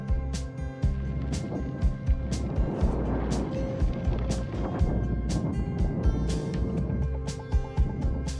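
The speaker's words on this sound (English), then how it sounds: "back down to the car now, and we're going to head on to our next destination along the snow roads." A car drives along snowy roads in the Cairngorms, its steady engine and tyre rumble holding close and even inside the cabin, with occasional soft bumps and knocks.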